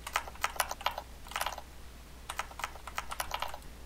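Bursts of clicky keystrokes from a mechanical computer keyboard with Cherry MX Blue switches, close and crisp, in two quick clusters separated by a short pause, with no talking.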